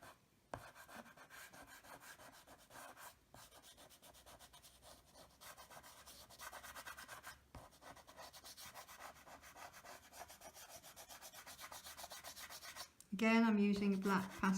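Black pastel chalk rubs and scratches across a drawing board in quick sketching strokes, a soft continuous dry scraping with short pauses, close and fairly quiet.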